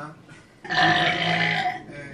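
A single loud, rasping burp of about a second rises suddenly out of a quiet room during a casual barbecue meal, close to the microphone.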